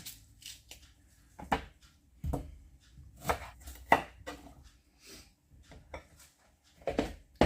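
Sharp knife strokes chopping onion into coarse half-rings on a cutting board, irregular chops spaced out with short pauses, close and fairly quiet, no talking.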